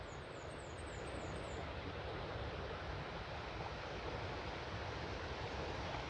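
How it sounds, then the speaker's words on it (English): Choke Creek Falls in Pinchot State Forest, Pennsylvania, gives a faint, steady rushing roar of falling water heard from a distance, with a few high bird chirps at the start. "I can hear the falls too."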